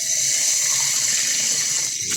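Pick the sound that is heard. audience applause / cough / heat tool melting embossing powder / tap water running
tap water running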